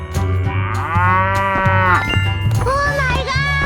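A cow moos in a 3D animal slide video game, one long loud call with rising and falling harmonics lasting a few seconds, set over steady game music.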